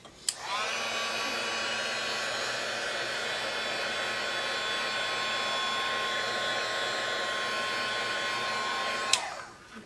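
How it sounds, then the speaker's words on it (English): A heat tool dries ink on a stamped card, a steady close whirring blow that starts with a click, runs evenly for about nine seconds, then clicks off, with no talk. "I'm going to hit this with some heat just so it's completely dry"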